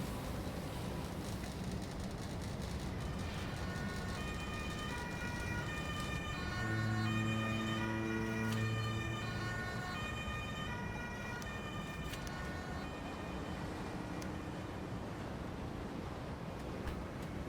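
An ambulance siren wails in rising and falling tones over steady traffic rumble, swelling loudest midway and then fading as it passes, in the video game Emergency 5 set in Hamburg.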